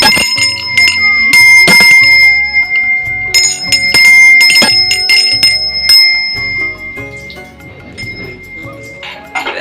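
A temple bell rings repeatedly amid a dense, loud devotional music mix for the Sawan festival, with drums and other instruments, bright chimes recurring throughout.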